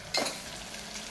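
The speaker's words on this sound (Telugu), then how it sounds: "పచ్చిమిర్చి, ఆనియన్ వేపుకోవాలి." Green chillies and onion frying in a pressure cooker, a short scrape of stirring followed by a soft, steady sizzle close by.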